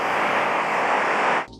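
White noise for sleep plays as a bright, uniform broadband hiss, loud and unchanging, then cuts off abruptly near the end, leaving a faint residual hum.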